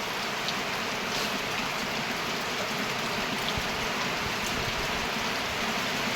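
Steady rain that has been falling since morning makes a continuous, even hiss of drops on surfaces, moderately loud and unbroken for several seconds, with no voices.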